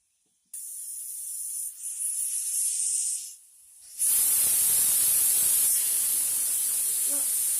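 A pressure cooker whistles while cooking egg kurma with onions: a loud, shrill whistle with hissing steam, briefly dropping off before a stronger, sustained blast of rushing hiss.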